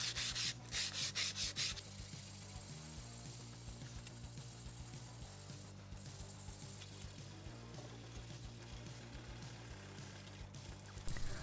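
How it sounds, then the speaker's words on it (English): Steady, close rubbing of wet-and-dry paper, worked up to 240 grit, sanding a wooden axe handle, running continuously with a few brief changes in stroke and no talk. "I could then move on to sanding the handle"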